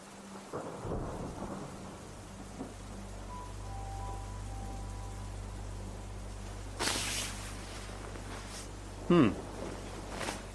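Steady rain falls throughout with a low continuous rumble beneath it, quiet and distant, broken by a couple of brief louder bursts that may be thunder.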